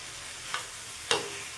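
Fried potatoes tipped into cooked masala in a pan for dhaba-style aloo bhuna, two short bursts of sizzle and stirring, the second louder, close and with no talk.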